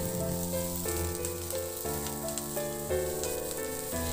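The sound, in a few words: sautéing onions in a pan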